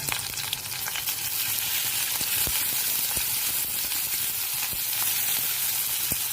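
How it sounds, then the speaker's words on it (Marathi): Chopped onion frying in oil with green chili and garlic: a steady, dense sizzle with scattered small pops and crackles, close and continuous throughout. "हा कांदा पण व्यवस्थित फ्राय करून घेऊ"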